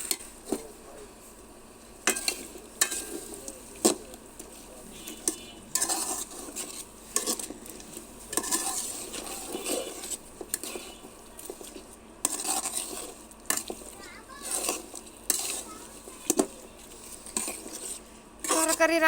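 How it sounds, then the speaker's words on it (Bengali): Beans and potatoes stir-fried in a pan, with repeated scraping and clattering of a metal spatula against the pan over a soft sizzle, close up and in irregular bursts. "এই হলো সিম আলু কষানো হয়ে গেছে।"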